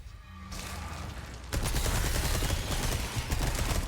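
Gunfire and explosions in Resident Evil 4 Berserker, with rocket soldiers shooting near a cabin, a dense, loud barrage that grows heavier partway through into a continuous roar of shots and blasts.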